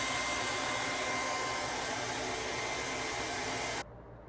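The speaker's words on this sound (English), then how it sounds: "I'm molding it with my hand as I'm blow drying it." Close, loud hair dryer blowing steadily as hair is blow-dried and smoothed by hand into a slick ponytail, a constant broadband rush that cuts off abruptly near the end.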